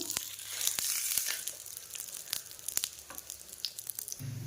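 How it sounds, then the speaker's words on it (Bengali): Potato-stuffed paratha frying in oil on a pan, a quiet crackling sizzle with crisp pops and snaps, heard close up with no talking. "এবার ভালো করে তেল দিয়ে পরোটাকে ভেজে নেব।"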